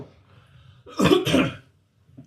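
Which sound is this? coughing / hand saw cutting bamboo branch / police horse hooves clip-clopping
coughing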